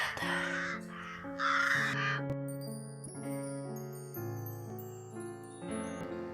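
A crow caws several times in harsh bursts close by, layered over sustained tinkling tones and a low droning musical bed, with no talking.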